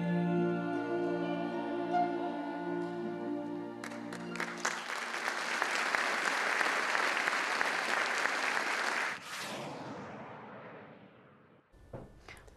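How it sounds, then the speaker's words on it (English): Audience at Lincoln Center bursts into loud, sustained applause that swells after music ends, a dense wash of clapping lasting several seconds before fading out. "Resounding applause."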